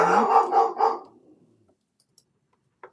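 A dog barks three times in quick succession close by, the barks loud and alone, then quiet follows with a few faint ticks.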